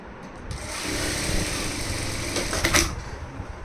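Sewing machine stitching a fall onto a saree, a steady close whirring run lasting a few seconds with a slight rise near the end.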